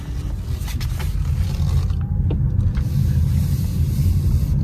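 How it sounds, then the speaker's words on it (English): A 2022 Toyota Corolla Hybrid with a 2ZR-FXE engine heard while driving, as a steady low road rumble and cabin hum with faint scrapes and clicks, no talking. "Let's have a drive."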